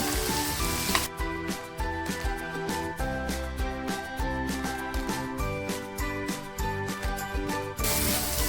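Homemade masala spices fry in hot oil with tomato for a dry Bombay duck dish, a steady crackling sizzle with light clinks of a spoon against the pan, close and continuous with no talk.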